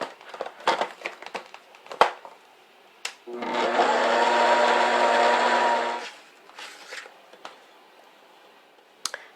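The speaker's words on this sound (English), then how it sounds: "So in this mixer I have 2 cups of butter and 2 cups of brown sugar." A stand mixer creams two cups of butter with two cups of brown sugar, giving a steady, loud motor whir with a tonal hum for about three seconds. Scattered clicks and handling knocks come before and after it.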